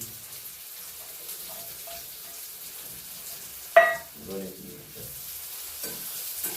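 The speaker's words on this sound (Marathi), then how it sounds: "आता कांदा आपण टाकून घेऊ आणि कांदा चांगला लाल भाजून घेऊ" A soft, steady sizzle of frying oil runs throughout, interrupted midway by a short clatter and a brief splash.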